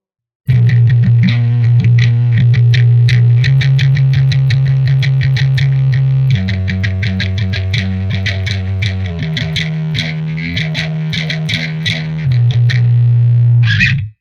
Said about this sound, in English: the bass line takes on a really percussive character, almost doubling the rhythmic feel of the drums